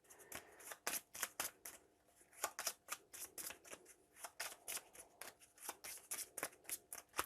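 Marvel Champions playing cards being riffled and reshuffled in quick repeated bursts, crisp papery snaps close up with short pauses between, no talking.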